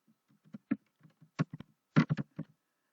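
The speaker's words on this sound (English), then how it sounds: "and my typing isn't so good" A few scattered keystrokes on a computer keyboard while editing a photo caption, irregular taps and short bursts, close and clear against a quiet background.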